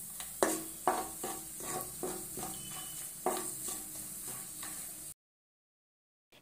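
Cinnamon, cloves, cardamom and dried red chilies fry in oil for mushroom masala, a quiet sizzle with a few spoon-on-pan scrapes, then sudden silence near the end.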